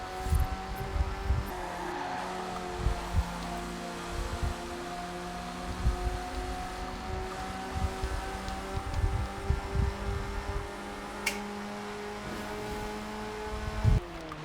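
Classic sports car in a racing game revving high toward 9,500 RPM and shifting up through the gears, the engine note climbing and dropping in repeated pulls with a steady drone.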